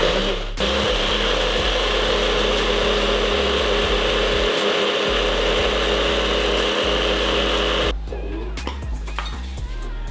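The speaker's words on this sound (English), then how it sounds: "now you're gonna put it into the blender and blend it up" A kitchen blender runs loudly and steadily, blending baked oats batter with a dense whirring roar for about eight seconds. Near the end it cuts to a lower rattling hum with a few knocks, and nobody speaks.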